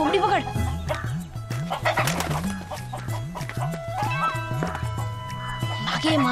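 Chickens cluck and squawk repeatedly under a steady rhythmic mechanical hum, with voices talking nearby throughout.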